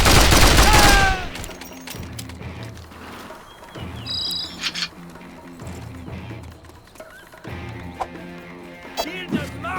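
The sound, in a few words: 50 cal heavy machine gun fire, Mercenaries 2 video game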